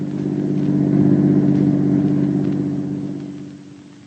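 A car passing by as a radio drama sound effect: a steady mid-low engine rumble that swells, holds, then fades away over about four seconds, with no voices.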